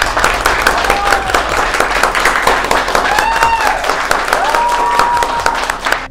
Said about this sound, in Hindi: वही पूरा सेमिनार तालियों की गड़गड़ाहट से गूंज उठा।